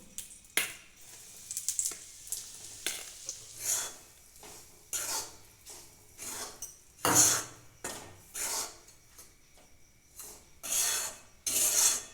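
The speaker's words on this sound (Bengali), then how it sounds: "এতে আটাটা ফেলে দেবো" Wheat flour roasts in ghee with bay leaves while being stirred, a series of rhythmic rasping scrapes of a spatula across the pan bottom, each stroke a soft swish separated by short pauses, fairly quiet and close.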